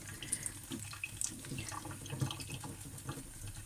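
Tap water runs steadily into a sink while mushrooms are rinsed, a continuous close splashing stream with small irregular spatters and no talk.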